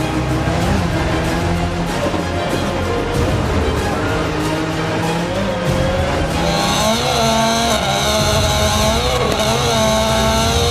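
Subaru WRC rally car climbing a mountain hill climb at full throttle, a loud, continuous engine roar with rising and falling revs and a sharper high-pitched whine building near the end.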